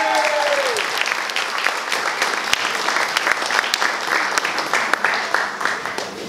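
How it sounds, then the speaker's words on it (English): Loud, sustained applause from a crowd at a mela launch event, steady throughout, with a few sharper individual claps and a faint voice at the start. "Big round of applause"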